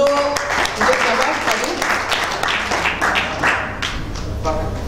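An audience at a product sharing session claps for a volunteer, a burst of applause that thins out over a few seconds, with voices mixed in.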